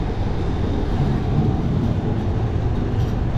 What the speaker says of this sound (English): This city has a tram that runs through it